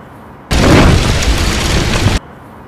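A video game explosion bursts in suddenly, a loud sustained boom and roar lasting under two seconds before cutting off sharply into quiet.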